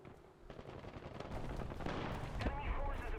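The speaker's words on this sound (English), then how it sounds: "here's a precision artillery strike" A precision artillery strike in War Thunder: dense rumbling blasts and crackling impacts build into a sustained barrage, with muffled speech partly underneath.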